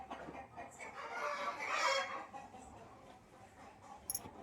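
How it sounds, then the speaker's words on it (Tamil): Chickens cluck at a home poultry farm, a steady nearby flock chatter with a louder burst of clucking midway and a brief high squawk near the end, no voices. "ஃபஸ்ட்டு கோழி பண்ணை தான் ரெடியாக இருக்குது."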